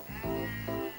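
Sheep bleating in a children's fairy-tale scene about a shepherd girl guarding the village flock, two or three drawn-out bleats close by with no talking.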